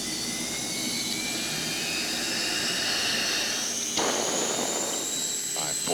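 An aircraft jet engine spools up during start, a loud, continuous whine and roar that rises steadily in pitch, with a brief transient near the end.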